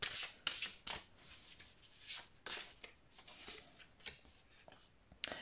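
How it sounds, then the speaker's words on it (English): Quiet, close-up riffling and slapping of tarot cards being shuffled, several crisp bursts in an irregular rhythm with soft rubbing between. "I'm gonna shuffle in front of you."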